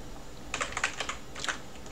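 Rapid clicking keystrokes on a computer keyboard, close and moderately loud, in two quick bursts with a brief pause between them.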